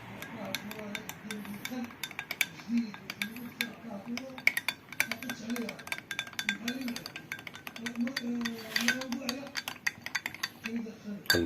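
A spoon stirs a honey mixture in a bowl, giving repeated soft clinks and scrapes against the bowl in an irregular rhythm, close and moderately quiet throughout.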